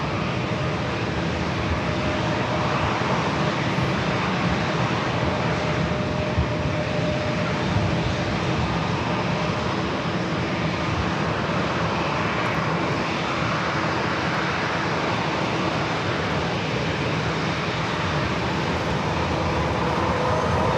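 Engines of a KLM Boeing 787 Dreamliner at San Diego airport make a loud, steady broadband roar that holds evenly for about twenty seconds, close and unbroken, with no voices.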